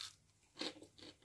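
Crunchy fried vada fritter being bitten with tea on a cold morning: a few crisp, close crunches in quick succession, quiet overall, with no voice over them.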